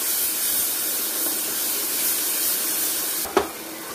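Ginger garlic paste sautéing in hot oil for a goat intestine curry, a steady hissing sizzle with a single sharp clatter near the end, no talk.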